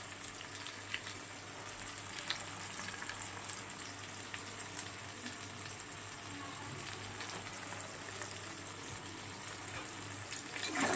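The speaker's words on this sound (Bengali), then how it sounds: "পটলগুলোকে বেশ ভালো করে লাল লাল করে ভেজে নেব" Pointed gourd pieces fry in hot oil, a faint, even sizzle with a soft hiss and occasional tiny pops, steady and uninterrupted with no talking.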